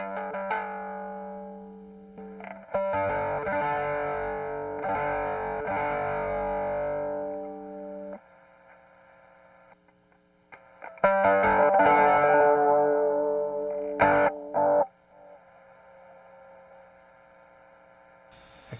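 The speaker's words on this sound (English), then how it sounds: "I'm going to turn on the overdrive side of the King of Tone" Electric guitar played through an Analogman King of Tone overdrive and Astrotone fuzz, in two bursts of gritty, saturated chords and notes with ringing sustain, a faint hum between phrases.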